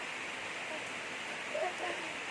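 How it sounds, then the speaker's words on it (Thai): Steady rain falls on a hillside in Mae Hong Son, a faint, even hiss of water throughout, with a brief soft voice near the end. "ตอนนี้ฝนตกนะ"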